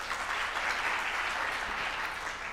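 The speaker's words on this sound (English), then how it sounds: "Can we give him another hand of applause?" Audience applause at the launch event for a Kenyan small-business research study, a dense, steady wash of clapping that stays loud and even across the whole stretch with no voices over it.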